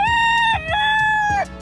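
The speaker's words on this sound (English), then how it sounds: "I'm still running with the roosters." A rooster on Kauai crows nearby, a loud, clear, drawn-out call with a dip and rise in the middle before it trails off, while faint clucks sound underneath.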